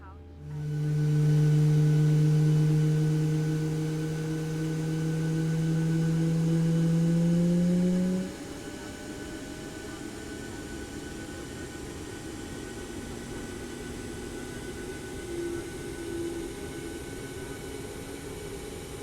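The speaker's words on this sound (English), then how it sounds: "there's a good start on engine number 1" Aircraft engine number one spooling up during start in Microsoft Flight Simulator 2024, a strong low whine and rising tonal hum that holds for several seconds, then drops to a steadier, quieter engine drone with faint higher tones.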